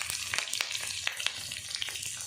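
Curry leaves and green chillies sizzle and crackle in hot oil for a tadka, giving quiet frying hiss with scattered sharp pops and spits and no talking.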